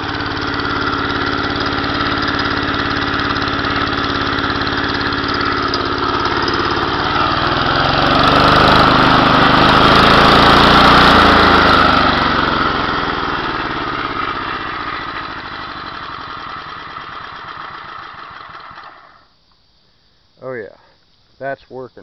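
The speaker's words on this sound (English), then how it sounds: "This engine don't like running that slow." A small engine driving a generator runs slow and uneven with light spark knock, a loud close drone that swells midway, then cuts out, leaving brief voices at the end.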